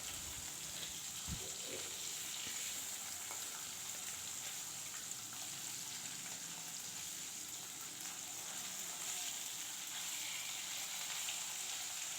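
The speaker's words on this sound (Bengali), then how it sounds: "নুন হলুদ মাখানো পাবদা মাছগুলো দিয়ে আমি একটু কড়া করে ভাজা করে নেব" Pabda fish rubbed with salt and turmeric frying crisp in a pan, a steady dense sizzle of hot oil holding evenly throughout with no talk, a brief thump near the start.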